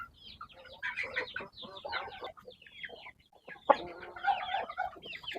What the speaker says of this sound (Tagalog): kukunin natin yung mga lalaki natin na manok, yung nandito sa breeding pin